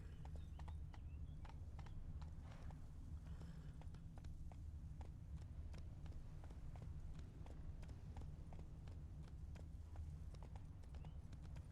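Hooves of a horse clip-clop steadily in the Witcher 3 video game, a regular rhythmic beat over a low rumbling ambience, close and continuous throughout.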